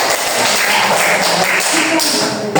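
A classroom of pupils claps together in a dense, steady patter of applause that carries loudly and evenly to the end.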